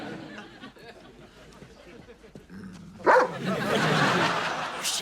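A dog barks in a TV comedy scene, with a couple of sharp barks partway through and then a noisy stretch of barking and commotion over quiet background sound.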